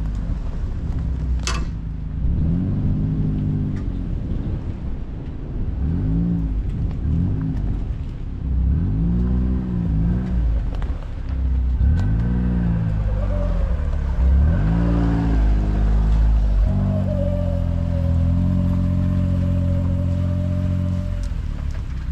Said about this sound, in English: So now I'll just back up the gator, turn it around